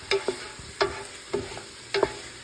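Kielbasa sizzling in a pan with garlic for red beans and rice, a quiet hiss broken by four sharp scrapes and clanks of a utensil against the pan, spaced about half a second apart.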